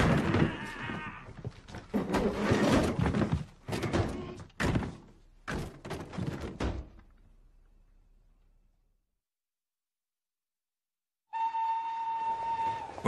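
A train sound effect in a drama, with loud rumbling carriage noise and clanks for several seconds that fade to silence, then a sustained steady whistle tone near the end.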